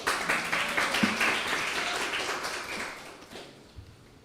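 A church congregation claps during a Sunday worship service, a dense burst of hand claps that starts strong and gradually thins and fades out over a few seconds.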